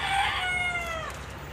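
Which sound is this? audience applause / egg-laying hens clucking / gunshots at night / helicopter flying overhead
egg-laying hens clucking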